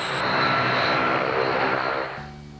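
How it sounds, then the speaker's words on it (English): A transport aircraft's engine droning steadily during flight training, a loud sustained roar that eases and drops in level toward the end, no talk. "JT eases the transport out of the dive"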